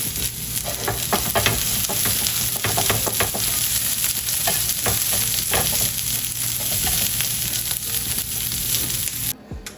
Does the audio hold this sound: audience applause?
no